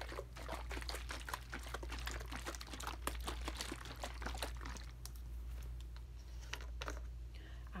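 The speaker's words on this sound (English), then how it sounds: "I just pour some in here." Cherry-flavored liquid medicine pours into a small cup in a close, quiet trickle, followed by faint handling clicks as the stream tapers off.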